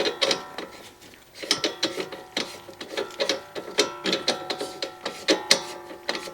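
A nut is threaded and tightened onto an Alfa Romeo car part, giving a close, irregular series of sharp metallic ratcheting clicks and taps in quick bursts, with no talking.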